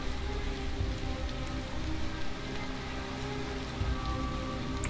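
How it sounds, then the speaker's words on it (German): Steady rain falls in the Minecraft video game, a dense, even hiss of drops on surfaces that holds at a constant loudness for the whole stretch, with no voices. "Könnt der Regen mal wieder aufhören, bitte?"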